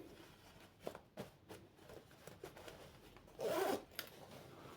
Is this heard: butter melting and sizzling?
no